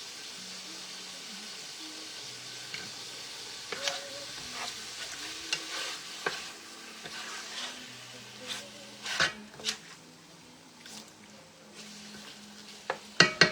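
Beef and pancetta browning in a casserole for beef bourguignon, a faint sizzle with scattered scraping clicks from stirring over a low background hum.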